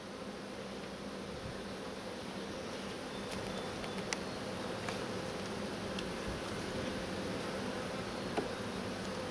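Honey bees buzz steadily inside an opened hive while queen cages are removed, a dense continuous hum with a few faint ticks and no voices.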